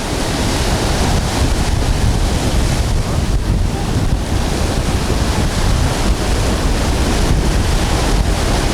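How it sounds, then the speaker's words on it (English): Strong wind on the coast of Maui roars and buffets the microphone continuously, a loud, rough rushing with waves faintly underneath. "It is hard to hold this camera still in this wind."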